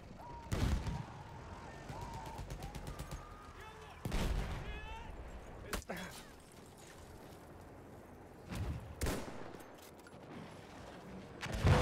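Sparse gunshots in the shooter game Incursions Alpha, a few sharp loud cracks spaced seconds apart over a low game ambience while a commentator talks throughout.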